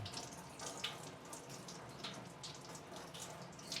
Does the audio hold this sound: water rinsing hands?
yes